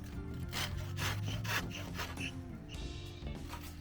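A handsaw cuts through wood in a carpentry workshop, its rasping strokes repeating in a steady back-and-forth rhythm, close and fairly loud, with a faint low hum beneath.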